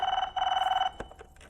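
A telephone bell rings in a comedy scene, two loud sustained bursts of steady ringing close by, followed by a few faint knocks and rustles.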